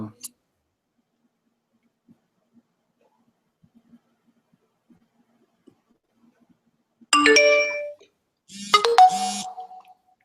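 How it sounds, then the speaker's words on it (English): After mostly near-silence with faint scattered clicks, two computer notification chimes ring out close and clear, each a short bright tonal burst, the second following about a second later. "Let me just try to remove the notifications here if we can."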